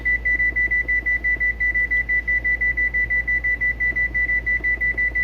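A kitchen timer on a stovetop beeps steadily while being set, a fast, even train of identical high electronic beeps, loud and close over a low background hum, with no talking.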